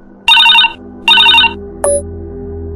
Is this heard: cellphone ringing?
yes